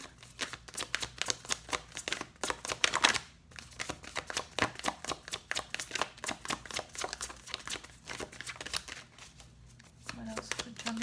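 Tarot cards drawn for a Gemini reading are shuffled briskly, a long run of quick riffling flicks and snaps close by, broken by a short pause before the shuffling resumes.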